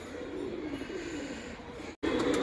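Pigeons coo softly in a low, continuous murmur at a rooftop roost, with a brief break near the end before the cooing resumes.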